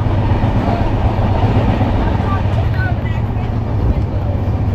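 A passenger train on the Kolkata to Digha route rolls past Uluberia, a loud, steady roar of wheels and carriage rumble heard from inside, constant and unbroken.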